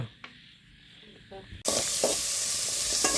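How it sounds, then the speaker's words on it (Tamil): Onion, dried red chili and radish sautéing in a pan for chutney; quiet at first with faint clinks, then a loud hissing sizzle bursts in and holds close through the end. "சட்னிக்கு வதக்கிட்டு இருக்கேன் வெங்காயம் வரமிளகாய் அப்புறம் வந்து முள்ளங்கி எல்லாம் சேர்த்து வதக்குறோம்"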